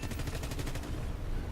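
Rapid bursts of aircraft cannon fire from an AD-4 in the War Thunder combat flight game, a quick rhythmic volley of close, loud shots that tails off after about a second.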